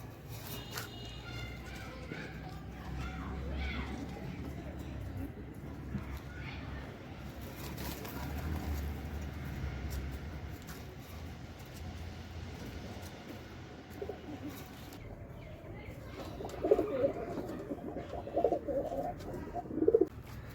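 Deshi Golla pigeons newly placed in a coop coo low and steadily throughout, close by, with some faint handling and shuffling noises toward the end.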